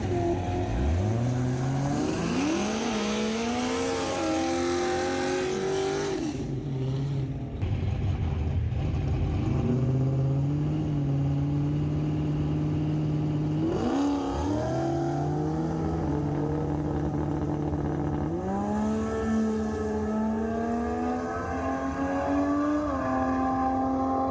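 Drag car on 180 treadwear street tyres accelerating hard down the strip, loud engine climbing through repeated gear changes, each shift dropping the pitch before it surges up again, with no voices.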